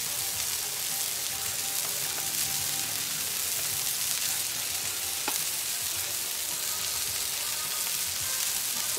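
Smash burgers sizzle on a Royal Gourmet 36-inch flat top grill: a loud, close, unbroken frying hiss that stays steady throughout, with no one talking.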